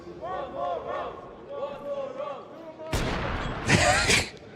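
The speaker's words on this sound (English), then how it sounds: "Hear the crowd there. Some people saying one more round." A game-match crowd in an online match cheers and calls out for one more round, the voices murmuring at first and then swelling into a loud burst of shouting and cheering near the end.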